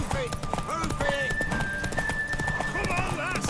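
Horse hooves clip-clop in a quick galloping rhythm in the video game The Witcher 3, with a horse whinnying and voices talking over the hoofbeats.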